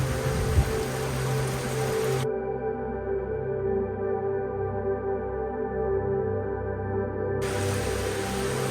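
Water dripping like steady rain inside a glacier ice cave at Königssee in the German Alps, a dense patter that sounds close and constant, with no voices heard.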